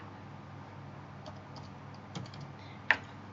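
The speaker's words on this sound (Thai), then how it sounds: "เราก็พิมพ์คำสั่งเข้าไปเลยนะคะ" Computer keyboard keys tapped in a few scattered strokes, with a sharper final press like hitting Enter, close and fairly quiet over a low steady room hum.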